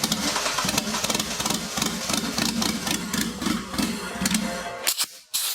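A home-built twin turbo car engine cranks and tries to catch during a start attempt with the throttle body closed, giving a loud, continuous rough churning with a pulsing rhythm that cuts off abruptly near the end.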